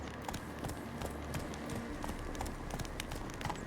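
Roach the horse's hooves clopping in The Witcher 3, a quiet steady rhythm of footfalls over low ambient background.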